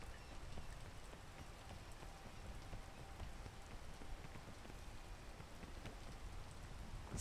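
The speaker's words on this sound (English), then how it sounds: "Oh, it's raining." Rain in the video game PEAK falls as a steady, soft hiss of drops pattering on surfaces, quiet and continuous with faint scattered taps, and no one speaks.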